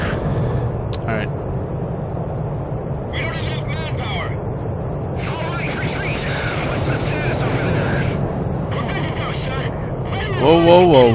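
A jet aircraft taking off in Ace Combat 5 produces a steady low engine roar throughout, while radio-style voices talk in intermittent bursts over it and the roar swells near the end.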